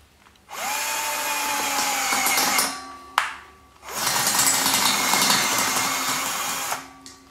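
A battery drill driving a boiler tube roller to expand boiler tubes whines in two long bursts with a short pause between, its motor pitch shifting under load, close and loud.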